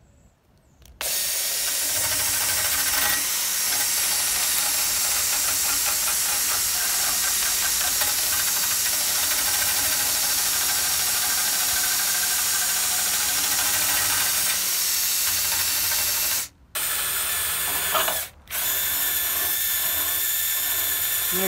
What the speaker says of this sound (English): I'm going to grind it down with a wire wheel